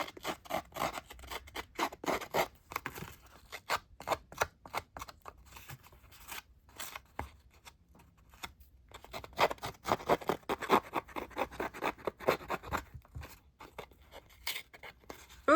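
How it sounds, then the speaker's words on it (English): Dry rasping and scraping of the inside of a scissors blade against a paper edge, repeated in irregular bursts with a brief lull midway, close and fairly quiet, no voices. "Just use the inside of your scissors"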